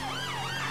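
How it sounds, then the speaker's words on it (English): A brief burst of a wailing police car siren in the GTA V video game, its pitch sweeping up and down, heard close and loud over an engine drone. "we're making sure the sirens and lights are on"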